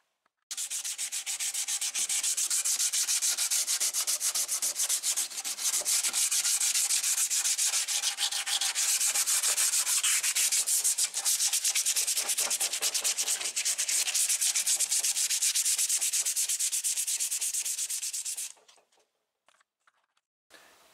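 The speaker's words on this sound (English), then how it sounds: "I'm going to take some 180 and just lightly go over all this here. Feather edge." Light hand sanding with 180-grit paper to feather the edges on a Monte Carlo SS body panel before paint, a dense, close, rapid back-and-forth rasping that runs steadily for about eighteen seconds and then stops.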